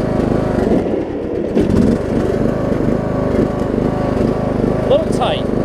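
A Troy-Bilt Bronco riding lawn mower runs with its blades on, a steady loud mid-pitched engine drone that surges slightly, with a person talking over it near the end.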